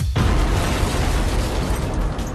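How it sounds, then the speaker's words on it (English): A heavy explosion blast hits almost instantly and fills the whole range with a loud, sustained roaring wash that stays dense and powerful for the full couple of seconds, with no talking. "The blast wave rushes out from the explosion, pushing everything out of its path."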